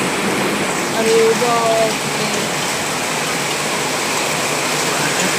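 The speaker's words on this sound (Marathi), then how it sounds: "गारपीट पडलेली आहे बघा," Heavy unseasonal rain pours down during a hailstorm, giving a dense, steady roar of falling water. A voice briefly exclaims near the start.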